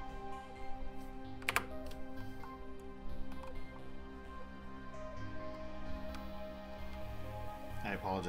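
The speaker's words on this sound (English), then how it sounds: "I apologize if my backspace is loud. My keyboard's right next to the microphone." Computer keyboard keys clatter in quick, uneven bursts right beside the microphone during a live stream, with a louder keystroke or two standing out, under steady low background hum.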